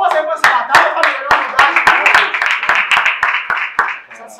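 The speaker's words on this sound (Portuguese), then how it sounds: "Palmas aí pra essa batalha, família." A crowd at a rap battle semifinal in Brazil claps together in a steady, loud rhythm, with crowd voices and chatter running underneath the claps.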